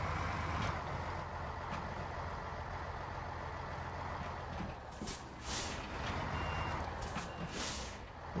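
A heavy truck in the snowy off-road game Snowrunner rumbles with a steady engine drone while maneuvering, with sharp beeps and hissing bursts later on, moderately loud with no talk.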